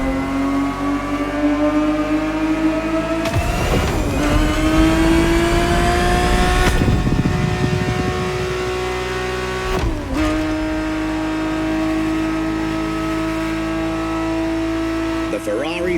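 Ferrari 365 GTB4 engine in The Crew Motorfest, a loud, close, steady drone that climbs in pitch through repeated revs with brief dips at gear shifts; someone talks over it throughout.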